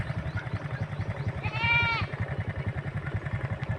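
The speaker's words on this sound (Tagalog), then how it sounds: "may kambing pa dito. Sobrang dami." Goats in a grassy field, with one clear bleat rising over a steady rhythmic chugging engine noise that pulses throughout, the animal call brief and mid-distance.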